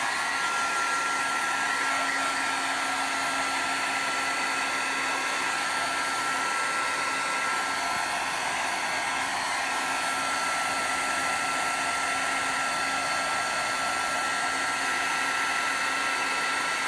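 A hair dryer blows a constant, loud, unbroken whoosh with a steady motor whine while drying glaze and paint on mixed media backgrounds, close by and running alone for the whole stretch.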